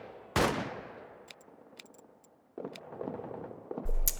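Suppressing gunfire in the trench-warfare video game All Quiet in the Trenches: one sharp loud shot with a fading tail, then faint distant pops and a rattling burst of fire.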